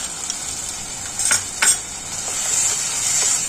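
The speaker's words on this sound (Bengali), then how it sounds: "ভাজা বাদামগুলো দিয়ে একটু নাড়াচাড়া করবো।" A utensil stirs fried peanuts into taro leaf greens in a pan, with scraping, a couple of brief clinks and a soft sizzle underneath; fairly quiet and close.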